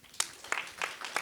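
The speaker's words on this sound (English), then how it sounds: "Let's get a round of applause going." A few sparse, separate claps from a panel audience, four or five quick hand claps in just over a second, fairly quiet.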